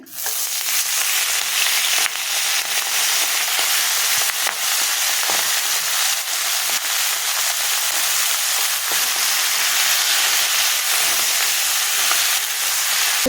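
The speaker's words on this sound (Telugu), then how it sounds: "ఇప్పుడు దీనిలో నేను పాలకూర కూడా వేసేస్తున్నానండి ఆయిల్లోనే" Steady, loud sizzling of spinach frying in hot oil for palak paneer, a dense crackling hiss that continues without a break, with occasional sharper pops.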